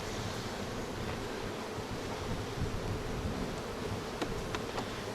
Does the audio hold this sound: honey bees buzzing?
yes